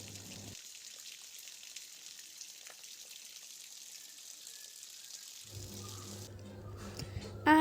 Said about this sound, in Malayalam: ഇന്നത്തെ നമ്മുടെ വീഡിയോ സ്റ്റാർട്ട് ചെയ്യുന്നത് മഴയോടൊപ്പമാണ്.